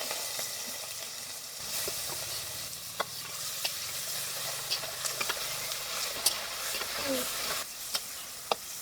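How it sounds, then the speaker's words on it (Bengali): Prawns coated in salt and turmeric fry in mustard oil in a wok, giving a continuous hiss broken by sharp spatula clicks and scrapes at irregular intervals. "চিংড়ি মাছগুলো এখন ভেজে নেব"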